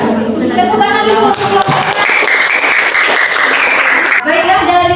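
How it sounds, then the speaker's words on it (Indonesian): A classroom of students claps together for several seconds between stretches of talking, the applause fairly close and loud, after a group presentation. "Ya, tepuk tangan dulu."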